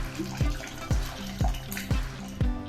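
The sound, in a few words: tamarind water poured into dal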